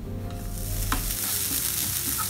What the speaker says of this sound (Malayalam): അപ്പോൾ അതൊക്കെ ഒന്ന് വറുത്തെടുക്കുകയാണ്.